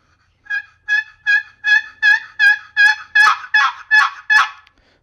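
Wooden turkey box call worked with partial paddle strokes gives a steady series of about ten sharp raspy yelps, then a closing note, loud and close with no talking.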